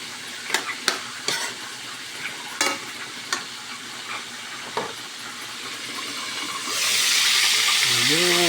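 Chicken gizzards (balun-balunan) frying in a pan, with a quiet sizzle and sharp intermittent scrapes and clacks of stirring, then a louder, steady hiss of frying near the end, a voice briefly heard at the close.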